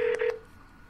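Telephone dialing tones, a quick pair of clear beeps close by, then quiet.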